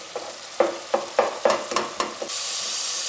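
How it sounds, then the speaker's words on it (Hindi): Turnip and meat masala stirred and fried on a full gas flame, a run of rhythmic scraping strokes over steady sizzling that swells into a continuous hiss near the end. "अब मैं इसको फुल फ्लेम पे अच्छी तरह से भून लूँगी।"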